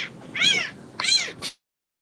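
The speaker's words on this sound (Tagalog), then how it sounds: "Uy, may pusa!" Three cat meows in quick succession, two long rising-falling calls and a short final one, fairly close and clear with no talk over them, heard indoors during a meat-cutting lesson.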